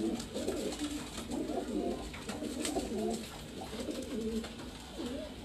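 Pigeons coo steadily on a rooftop in Larkana, Sindh, their soft, rolling calls overlapping close by over a constant background hum, with no voices.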